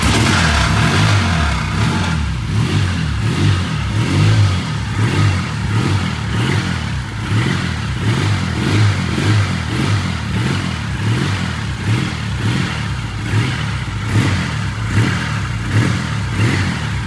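Running 1978 Triumph motorcycle engine with a rattle, a steady close throb of chugging pulses with mild revving swells, loud and unbroken from start to finish with no talking.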